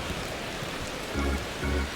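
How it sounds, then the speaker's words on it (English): Steady rain hiss falls over a baseball game in MLB The Show 25, a constant even wash with two brief low swells near the end, no talk. "This rain is not letting up."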